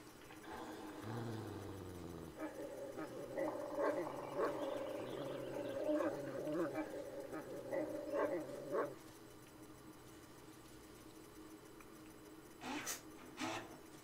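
Dog barking and growling in the Blair Witch game, a sustained low growl with yelping barks across several seconds, mixed with someone talking and ambient woodland noise.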